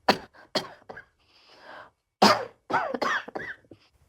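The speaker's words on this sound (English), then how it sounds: "I want to tell you why I cough" Several sharp coughs and throat-clearing bursts from someone speaking in a quiet room, with short gaps of silence between the harsh, close, fairly loud fits.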